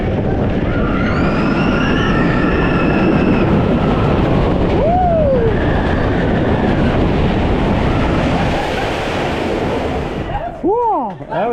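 The Jack Rabbit roller coaster train at Seabreeze Amusement Park rumbles and clatters loudly along its track, with squealing wheels and shifting whooshes as it rides.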